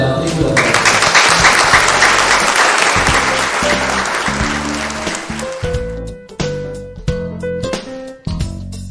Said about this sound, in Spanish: este es el aplauso de la matrícula